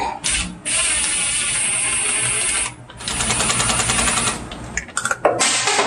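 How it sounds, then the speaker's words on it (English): A 7/32 socket wrench tightens bolts on a Bayliner Bowrider 175 boat with a rapid, continuous ratcheting whir in long bursts, a brief pause between them, then a few scattered clicks and knocks at the end. "Now we'll take the 7/32 socket and tighten these down."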